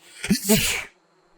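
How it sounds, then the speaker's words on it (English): A single sharp sneeze, close and loud, with a brief intake before the burst and then quiet. "I have to sneeze."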